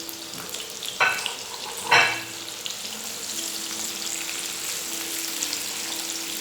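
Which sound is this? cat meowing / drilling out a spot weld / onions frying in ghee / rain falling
onions frying in ghee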